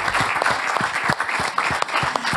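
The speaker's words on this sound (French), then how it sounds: "je pense qu'on peut déjà bien les applaudir" A roomful of attendees applauds at the close of a French business training day, continuous crowd clapping with a few heavier, closer claps standing out.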